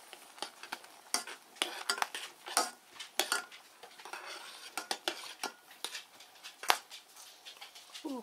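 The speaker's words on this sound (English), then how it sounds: "It's the sounds of the cranberry splitting." Cranberries simmering in a covered pot for homemade cranberry sauce, splitting and popping in a string of sharp, irregular clicks and spatters over a soft bubbling hiss, close and moderately quiet, with no talking.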